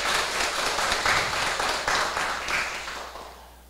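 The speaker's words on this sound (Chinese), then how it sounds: "我们再次用热烈的掌声，谢谢我们潘良华议长" Audience applause after a lecture session ends, a steady wash of many hands clapping that holds for a few seconds, then gradually fades away.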